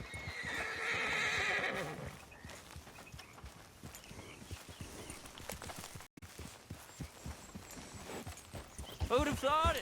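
A horse in the video game Red Dead Redemption 2 whinnies loudly at the start, then its hooves clip-clop at a steady walking pace, with a second neigh near the end and voices talking over it.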